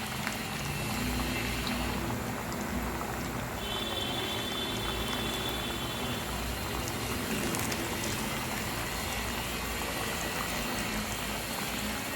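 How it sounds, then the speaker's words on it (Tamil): Maddur vada dropped into hot oil and deep-frying on a medium flame, a dense, steady bubbling sizzle that stays even throughout with no talking. "இதை நம்ம எண்ணெய் காஞ்சிடுத்து இதில் போட்டுற வேண்டியது"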